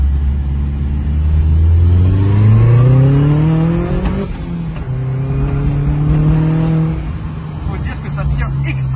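A car drives along the road with an engine note that rises steadily as it accelerates, eases off and holds, then climbs again, heard from inside under continuous low rumble.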